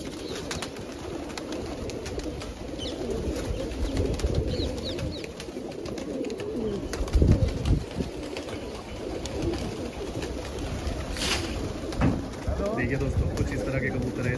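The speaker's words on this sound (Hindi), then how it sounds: "150 कबूतर है ये।" A flock of about 150 pigeons coos on a rooftop, a continuous throaty murmur of overlapping calls with occasional wing flaps, heard close by while people talk over it.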